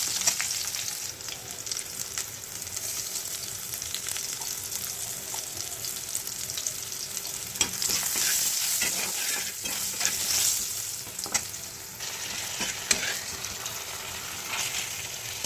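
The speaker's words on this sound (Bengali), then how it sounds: "আলুগুলো ভালো করে ভাজা হয়ে গেলে দিয়ে দিলাম কেটে রাখা পেঁয়াজ" Potatoes fry in a wok with a continuous sizzle that swells and fades, while a spatula stirs them at irregular intervals, close up and without talking.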